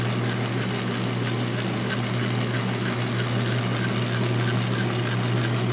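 A rebuilt South Bend drill press motor runs steadily at its lowest speed, a low continuous hum with faint mechanical whine, close and even throughout with no talking.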